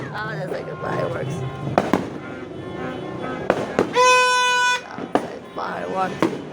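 New Year fireworks go off outdoors in a run of sharp, separate bangs, some near and loud, with a long blaring horn in the middle and people talking between the blasts.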